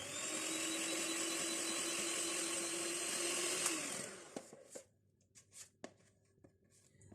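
An electric beater whirs steadily through butter, sugar and eggs for a nut cake, loud and continuous, then cuts off and leaves a few faint clinks and bumps of bowl handling.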